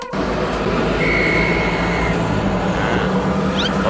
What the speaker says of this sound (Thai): รถเยอะมาก